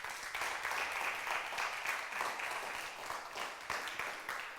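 A church congregation at a Sunday service applauds steadily for several seconds, a soft, somewhat distant wash of many clapping hands with an even texture throughout.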